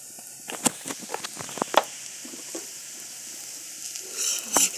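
Onions frying in a pan with turmeric added, stirred by hand: a moderate background sizzle with a scatter of sharp scraping and tapping clicks from the stirring spoon, rising into a louder hiss near the end.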